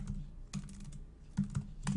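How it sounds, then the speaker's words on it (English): Typing on a computer keyboard in a home office setting, with clusters of quick, close key clicks in several short bursts and brief pauses between them, heard alone without any talking. "this is the thing with talking and typing at the same time"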